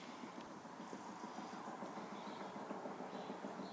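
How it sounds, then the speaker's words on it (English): A passenger train on the Sleaford to Lincoln service near Ruskington station, Lincolnshire, rolls along the rails with a faulty wheel. It gives a steady, rhythmic clicking thump at moderate distance over a constant rumbling wash of running noise. "As you can hear, it's dodgy wheel running."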